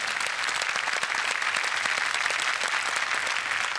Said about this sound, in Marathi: एकदा जोरदार टाळ्या सरांसाठी